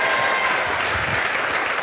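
Studio audience at a French television talk show breaking into dense, steady applause, a loud wash of many hands clapping at once with no talking over it.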